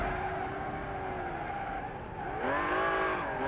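An old Ferrari mod in BeamNG.Drive skids and squeals its tires over a droning engine, the screech holding steady and then rising in pitch near the end.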